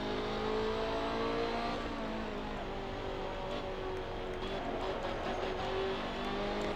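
Race car engine in a sim racing game droning loudly and steadily, with pitch shifts as gears change down under braking, continuous and close throughout.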